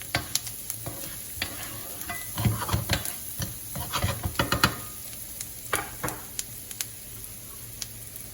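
Onion frying in a pan for a creamy bacon and mushroom fettuccine, a steady close sizzle broken by frequent clicks and scrapes of stirring, busiest in the middle and thinning toward the end, with no talking.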